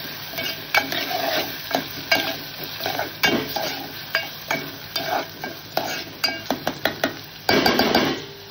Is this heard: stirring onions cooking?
yes